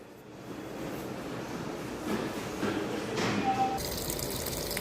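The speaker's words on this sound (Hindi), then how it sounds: "ये मैंने पानी चला दिया है, कपड़े धोने मैंने रख दिए थे, कपड़े चल रहे हैं मेरे" Water runs steadily into a washing machine to wash clothes at home, a continuous rushing, splashing flow that builds slightly louder, close by and heard alone.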